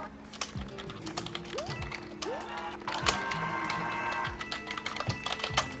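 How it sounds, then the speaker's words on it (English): Rapid typing on a computer keyboard, a dense stream of close key clicks, with other faint tonal sounds in the background. "And he's typing a massive, massive storm of letters."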